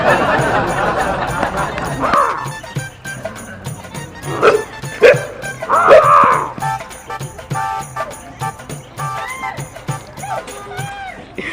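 A dog in a Gujarati village comedy gives a few short barks and yips amid a noisy background, with sparse voices.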